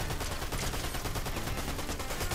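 Dense, continuous burst of video game gunfire in Fortnite, rapid overlapping shots filling the whole moment at steady loudness with no talking.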